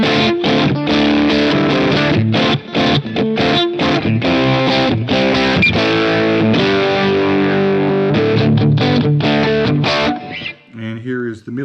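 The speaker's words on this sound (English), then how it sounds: "I'm playing with that dang distortion on the whole time." Stratocaster played through a Fender Mustang LT25 amp with distortion engaged, loud sustained chords and riffs running continuously, with a brief break near the end.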